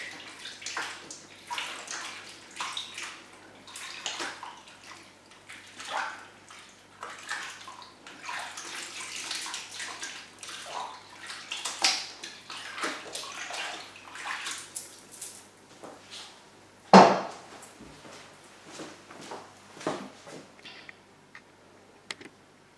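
Seitan dough is washed by hand in water, with repeated soft sloshing and splashing in a bowl, plus a sharp louder splash near the end, all fairly quiet and close with no talk.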